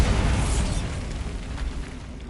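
A Bombarda spell blast in Hogwarts Legacy, a loud, deep rumbling explosion that fills the moment and rolls on without a break.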